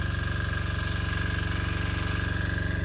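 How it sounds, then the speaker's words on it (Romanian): Power generator running aboard a boat on the Danube Delta, a close, steady pulsing engine drone with a fast regular throb and no talk over it. "Îmi cer scuze pentru zgomotul constant, dar cum am spus, avem generatorul de curent acolo, că suntem pe un vapor."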